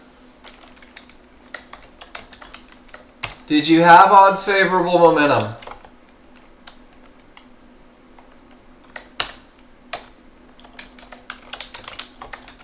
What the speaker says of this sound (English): Get your fingers on the keyboard